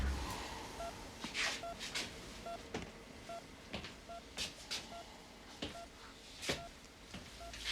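Telephone keypad dialing, a series of short, evenly spaced touch-tone beeps, fairly quiet, interspersed with sharp clicks and rustling handling noises.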